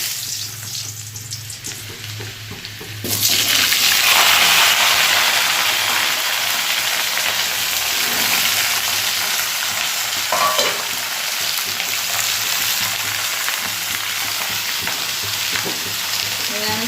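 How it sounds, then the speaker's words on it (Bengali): Nigella seeds and a dried red chili hit hot oil in a pan over a gas flame, bursting into a loud, steady sizzle that holds strongly and without a break after a quieter opening. "তেলটা জ্বলে গেছে, চলো একটু কালো জিরে ফোড়ন দিয়ে দিই। শুকনো লঙ্কা দিলাম একটা"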